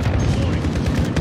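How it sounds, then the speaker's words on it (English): Grenade launcher fire in a zombie shooter game, heavy dense thumping bursts and booms filling a short, loud stretch with chaotic layered impacts and no clear pauses. "it's a grenade launcher"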